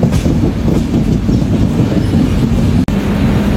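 The Tirumala Express, running from Visakhapatnam to Tirupati, rumbles loud and close across a road-cum-rail bridge, a continuous heavy roar of wheels and carriages with a brief dip near the end.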